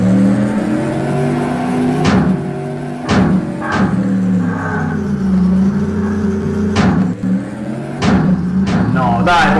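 Car engines rev and whine through a car stunt video game, a steady droning engine tone bending in pitch with sharp bursts and thumps at intervals, while a voice talks over it.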